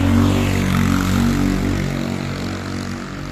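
A motorbike in a back street near Paphos harbour in Cyprus, a loud close engine drone that passes and slowly fades over a few seconds.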